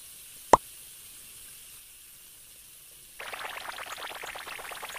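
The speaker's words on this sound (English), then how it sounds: "The water's not turning off." A sharp click, then quiet, followed by a steady hiss of water running from a tap that will not turn off, starting abruptly and continuing to the end.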